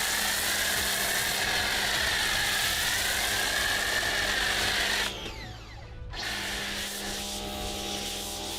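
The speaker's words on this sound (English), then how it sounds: "let's go ahead and spray the car with the Watermelon Snow Foam from Chemical Guys" Chemical Guys Watermelon Snow Foam sprayed onto a car from a foam applicator, a steady close hiss that cuts out briefly near the end, then resumes.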